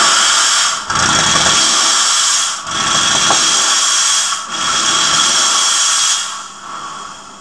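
Loud hissing bursts of steam from a Jetsteam steam cleaner used for cinema cleaning, four long blasts separated by brief pauses, close by and with no talking.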